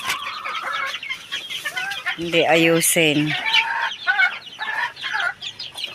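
Chickens cluck and squawk close by, with one loud burst of repeated clucking in the middle, while a person speaks briefly.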